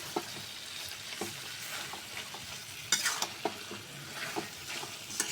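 Potatoes and tomatoes frying for a river fish curry, a soft continuous sizzle broken by regular spatula scrapes and a few clinks against the pan.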